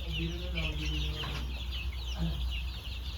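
Rhode Island Red chicks and chickens clucking at a farm, with several birds calling in short bursts over steady background noise and a faint voice nearby.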